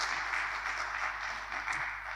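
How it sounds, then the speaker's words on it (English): An audience applauds at a football agents conference, a soft, steady wash of clapping heard from a distance without pause. "Encore une fois, des applaudissements nourris, s'il vous plaît"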